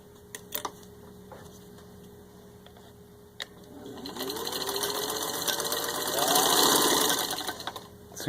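A serviced, rewired 1950 Singer 15-91 heavy-duty sewing machine stitches through six layers of denim, its motor whirring up loudly after a few clicks, rising in speed and then settling, close and alone.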